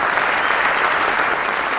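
Loud, dense applause from a large audience at a men's empowerment summit, continuous and even for its whole short span, with no voices above it.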